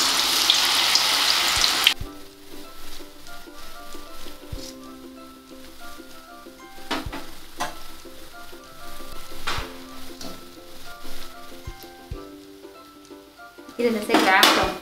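Urad dal vadas frying in hot oil, a bright hissing sizzle at first that settles into a softer crackle, with occasional utensil clinks and faint talk over it.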